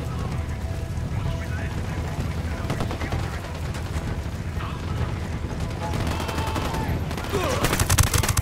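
Bursts of rapid gunfire and automatic weapon fire in the video game Ghost Recon, loud and sustained, with shouted voices among the shots.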